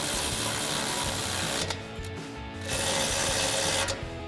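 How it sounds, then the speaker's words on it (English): A hand ratchet with an 18mm socket tightens the factory caliper bolts on a 4WD Silverado 1500 during a lift install, giving a steady run of close mechanical clicking with a brief pause midway. "tighten these down using our 18mm socket on our ratchet"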